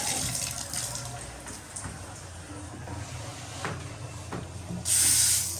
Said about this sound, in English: Water goes right on.